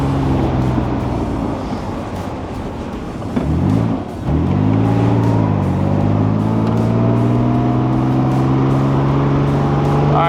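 A 1969 Jaguar E-Type Series II Roadster engine revving on the road, loud and close, pitch dropping at a shift then climbing steadily through the gears under constant wind noise.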